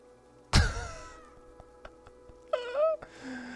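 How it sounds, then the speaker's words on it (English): A cat in the video game Stray lets out a loud, close meow at the start, followed by a shorter, rising second meow near the end against a quiet background. "I can meow."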